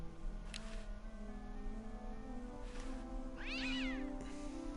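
Game cat from Day of the Tentacle gives a single clear meow toward the end, heard alone over a constant low background hum and soft clicks, with no voices present.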